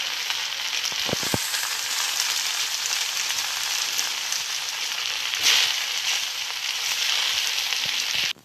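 Vegetable fried rice with green onion and freshly added eggs sizzles loudly in a hot pan, a dense continuous frying hiss with a few scraping stir clicks, no voices.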